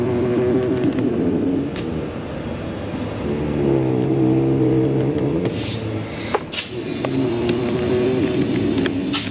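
A car's electric power seat motor runs steadily in an auto repair shop, making a continuous whirring hum with shifting pitch and a few brief clicks and knocks near the end.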